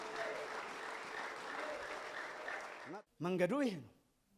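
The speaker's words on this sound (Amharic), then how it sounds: "አጨብጭቡለት።" A church congregation applauding in a dense, sustained burst of clapping that stops abruptly, followed by a loud voice speaking.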